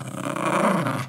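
A dog growls in one sustained, low, rumbling snarl close to the listener, loud and continuous for about a second with no talk over it.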